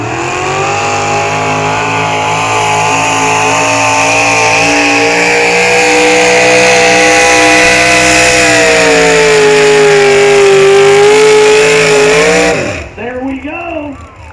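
A 468 cubic inch big block Chevy pulling engine screams at sustained high revs as it drags a sled, loud and close, then cuts off sharply near the end.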